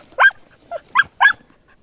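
A dog barks four times in short, sharp yips at an armadillo burrow, close by, with a short gap between the first bark and the other three.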